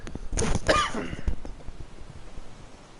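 A character in the Twin Mirror video game coughs: a few close, rough coughs and throat clearing in the first second and a half, then only faint background noise.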